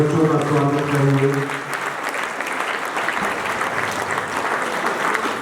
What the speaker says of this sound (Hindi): जोरदार तालियों से सभी बच्चों का स्वागत करेंगे